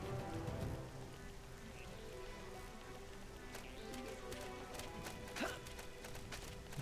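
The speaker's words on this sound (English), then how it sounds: "It's now raining." Steady rain falling in Xenoblade Chronicles X, a soft continuous patter that runs throughout with faint game effects and a brief brighter swish near the end.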